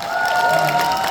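Steady applause and light cheering from an audience at a blockchain conference, an even wash of clapping filling the brief moment with no pauses.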